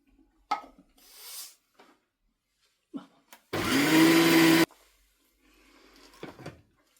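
A blender whirs in one steady, loud burst of about a second, mixing a no-cook chutney with tomato paste, framed by brief kitchen clatter and quiet handling noises before and after.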